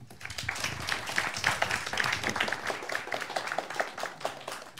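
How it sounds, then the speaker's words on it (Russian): A quiz audience applauds the team at the green table for the correct answer, a dense and steady crowd clapping that holds for about five seconds at moderate volume with no talking over it. "Аплодисменты."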